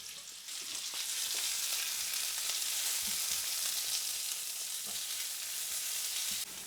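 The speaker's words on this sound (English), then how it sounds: "Once the oil gets hot, I'm going to be adding my onions" Onions and peppers frying in hot oil for an Italian oven-baked frittata, a loud continuous close sizzle with faint stirring clicks and no voices.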